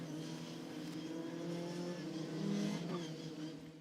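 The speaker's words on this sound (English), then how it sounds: "pole position driver then, Chase Fernandez, brings the queue up towards the line" Ginetta Junior race cars idle and creep forward in a queue toward the grid before a standing start at Snetterton, a steady loud multi-engine drone with slight revving swells, heard alone.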